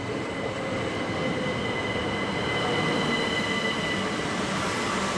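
A train passing through Westenhanger railway station in Kent on the South Eastern Main Line, giving a steady loud rumble of rolling wheels with high squealing tones throughout.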